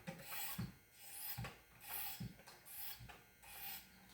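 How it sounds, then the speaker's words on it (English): A knife of 61 hardness is drawn across old diamond stones on a Wicked Edge sharpener, giving soft, close rasping strokes in a steady rhythm of roughly one every eight-tenths of a second, quiet and free of talk. "sharpening, it feels like butter for a 61 hardness with these old diamond stones."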